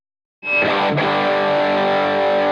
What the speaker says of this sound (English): that sounds like an overdrive pedal.